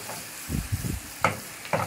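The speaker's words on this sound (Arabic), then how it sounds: "عندي هنا الثوم على الفلفل، اقلبهم كده كويس" Garlic and peppers stir-fried in a pan for a spinach dish: soft scraping stirs over a light sizzle, followed by two sharper clanks of the utensil against the pan, close by.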